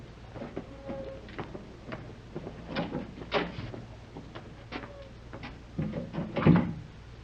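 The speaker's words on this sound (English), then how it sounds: "I'll go ahead and open the door." A door is opened in a scene with a radio set nearby, heard as a string of knocks, clunks and rattles spread over several seconds at moderate loudness.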